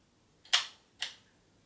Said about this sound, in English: And now you can take your picture.